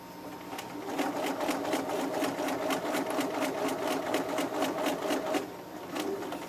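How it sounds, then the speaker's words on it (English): A sewing machine stitching a leather sunglass case runs close and steady for several seconds with a rapid, even mechanical rattle, then slows and stops near the end for a back stitch, no talking over it. "I'm going to do a little back stitch there actually for strength and keep going"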